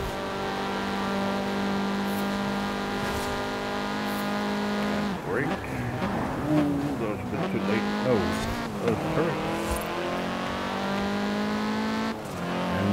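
A car on snow tires races through a winter setting in the video game Forza Horizon 4, its engine droning steadily and then revving and shifting through gears, with tire squeal in the middle stretch.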